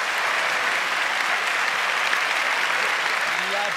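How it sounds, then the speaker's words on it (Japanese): Arena crowd at a badminton championship match in Japan breaks into loud, sustained applause after a long rally, a dense continuous roar of clapping with faint voices mixed in. "いや場内も大拍手"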